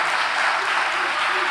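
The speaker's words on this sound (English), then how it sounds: "quick round of applause" A short burst of applause from an audience at a Hall of Fame induction ceremony, dense steady clapping throughout.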